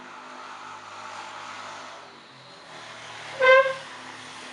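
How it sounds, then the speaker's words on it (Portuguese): A motorcycle revs and roars past nearby, its engine note rising in a short loud burst over steady background traffic. "Desgraça dessas motos!"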